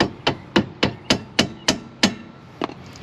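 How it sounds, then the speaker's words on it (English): A hammer taps stuck rear brake caliper bolts on a Honda CR-V, eight sharp metallic strikes in a steady, fairly even rhythm, close and loud with brief ringing after each blow. "So if they're stuck and they won't come loose, what you can do, give them a little tappy."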